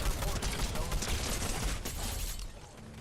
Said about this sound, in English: Apparently it's just all just wild SMG usage.